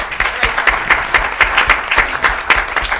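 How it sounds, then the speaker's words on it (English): A loud, dense round of applause from an audience at a social media panel Q&A, with many hands clapping steadily and continuously throughout. "if we could just give her a round of applause"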